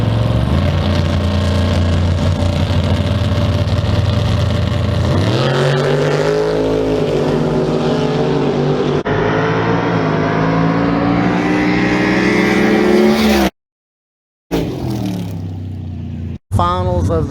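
Street-class cars in a no-prep drag race roar loudly down the track, engines revving hard and shifting with rising pitch sweeps, then cutting off abruptly before a brief return of engine noise near the end.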